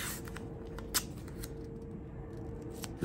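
Tape being torn and applied to protect the chrome on a 2013 Softail Heritage motorcycle: soft, close crackles and a few sharp rips over a quiet background.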